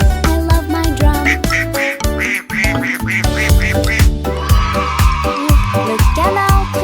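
Cartoonish duck quacks repeat over a busy children's song with drums and melody, loud and rhythmic throughout.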